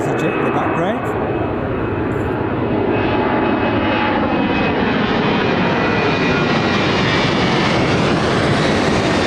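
An EasyJet airliner at Birmingham Airport roars loud and close in a continuous engine rumble that builds steadily, with brief voices near the start.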